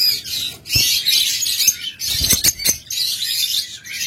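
A master pair of lovebirds, the hen carrying eggs, chatters with shrill, close chirps and squawks in dense bursts, broken by a few sharp clicks and brief pauses.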